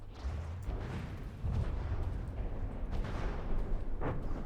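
Explosions and booming impacts in a naval battle in the video game From the Depths, hitting a ship and its engine, come as a steady churning roar with heavier bursts near the middle and end.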